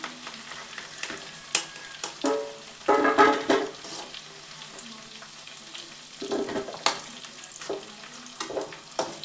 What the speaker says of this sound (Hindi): सिंघाड़ा फ्राई हो गया है, मैं तो निकाल लेती हूँ।